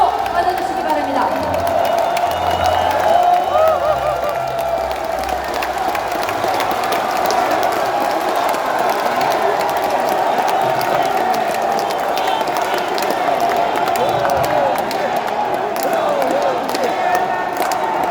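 A large crowd at a Democratic Party convention in Jeonbuk applauds and cheers to welcome candidate Song Young-gil, a loud continuous roar of clapping, shouts and whoops that stays dense throughout.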